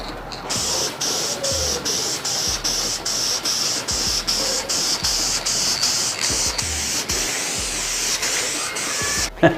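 Spray gun laying a second coat of paint on a 40HP VW engine part, a loud steady hiss broken by regular short pauses as the trigger is released, ending in a final burst.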